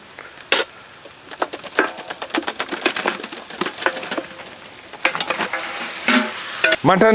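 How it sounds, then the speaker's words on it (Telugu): Onion, ginger garlic paste and mutton frying in oil for a mutton biryani, with a spatula scraping and stirring in a series of close, uneven strokes over a steady low sizzle. "నూనెలో కొంచెం కలర్ మారేంత వరకు వేయించాక"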